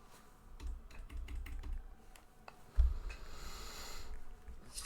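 Computer keyboard keys clatter in short bursts of quick presses, close and fairly quiet, with one heavier thump partway through and a soft hiss of room noise underneath.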